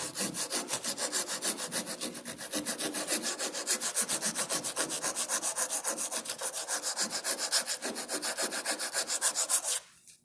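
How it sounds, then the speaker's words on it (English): Hand file cutting a wooden fin at a slight angle, making fast, even back-and-forth rasping strokes, close and steady, that stop abruptly near the end, no talking. "then I take my file and I'm able to place it so that I'm not perfectly flat, just a little bit of an angle, and I can start to make my cuts."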